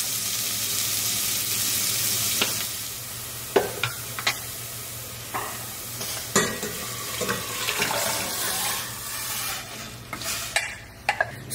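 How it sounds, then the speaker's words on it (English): Diced onion sweating with a pinch of salt in a pan gives a steady soft sizzle, with a spoon stirring and scraping in scattered clicks and taps across the whole stretch; no one speaks. "So I've got the onion in there sweated"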